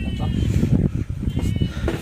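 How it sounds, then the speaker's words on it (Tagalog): Goats bleat on a farm, a couple of close, wavering calls mixed with people talking nearby and general farmyard noise. "May mga kambing siya dito."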